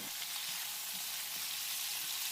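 Bitter gourd fries in hot oil, giving a soft, steady sizzle that stays even and fairly faint throughout, with no voices.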